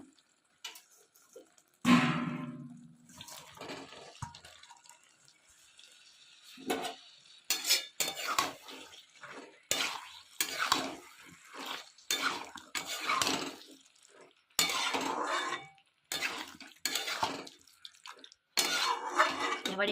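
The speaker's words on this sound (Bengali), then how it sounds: "এর উপরে এবার এঁচোড়টা দিয়ে দেবো।" Pieces of young jackfruit drop onto part-boiled potatoes in a cooking pot, giving intermittent scraping, clattering and stirring sounds with soft sizzling between short pauses, close and fairly quiet.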